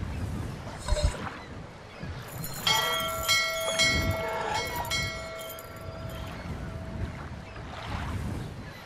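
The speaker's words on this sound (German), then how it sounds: "Können wir denn mit der Glocke hier den Diener schon rufen?" A servant-summoning bell rings in the video game Syberia, its bright, sustained metallic tones ringing out over a low ambient game background, loud and close, then fading out.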